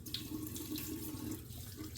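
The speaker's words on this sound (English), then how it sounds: "I'm gonna add a little water to it." Water runs steadily from a tap into a container of Noxzema pre-shave, a continuous, close splashing flow with no talking.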